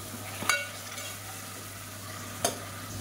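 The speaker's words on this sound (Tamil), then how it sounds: "இஞ்சி பூண்டு பேஸ்ட்டு நல்லா வதங்கிருச்சு" Steady low sizzle of ginger garlic paste frying in a pan, with two sharp clinks of a utensil against the pan a couple of seconds apart.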